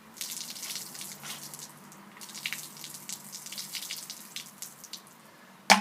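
Water pours and splashes steadily, imitating heavy rain in a homemade flood experiment. The flow runs continuously for several seconds, swelling and easing a little, close by, with no voices.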